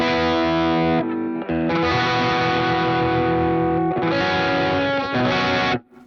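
Electric guitar played through an overdrive/distortion pedal in a pedal demo, loud sustained distorted chords with rich harmonics, briefly dropping out around one and four seconds, then cut off abruptly near the end.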